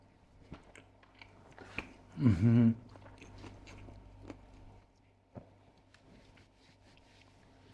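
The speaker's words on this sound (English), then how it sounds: "As expected, a nice crunch to it." Biting into a hot dog topped with gherkins and pink pickled onions gives one loud, short crunchy bite followed by quieter chewing and small mouth sounds, close to the microphone.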